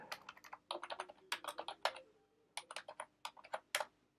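Typing on a Mac computer keyboard: bursts of quick, crisp key clicks in irregular clusters with short pauses, close and clear, no talking.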